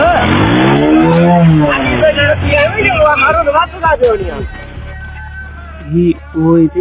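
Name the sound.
car engine revving during a race challenge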